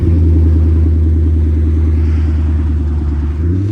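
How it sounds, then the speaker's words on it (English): Corvette engine revving through a newly fitted Borla exhaust, a loud, deep, throbbing rumble held steady at idle-to-mid revs, close up and alone. "He just recently got a Borla exhaust system and showed us how it sounded."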